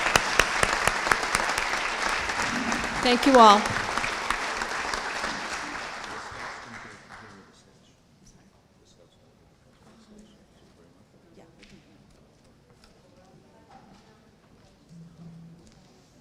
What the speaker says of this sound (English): please, everybody, give our newly elected officials a round of applause